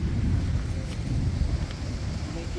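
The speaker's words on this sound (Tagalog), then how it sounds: "Hangin-hangin na dito." Strong wind blows steadily outdoors on a farm as a thunderstorm approaches, a dense low rumbling roar with gusts that stays loud and continuous throughout.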